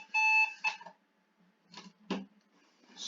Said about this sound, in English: Somebody played with our alarm clock.